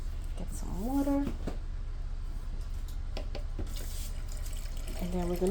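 Tap water runs into a pitcher being filled to make iced tea, a steady rushing stream with voices talking over it and a rising tone as the pitcher fills.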